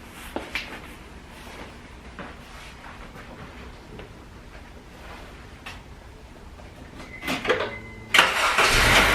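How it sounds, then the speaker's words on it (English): A 2006 Honda Civic engine cranks and catches near the end after a quiet stretch of faint ticks and handling noises, then settles into a loud, close, steady run. "So I'm going to start the car"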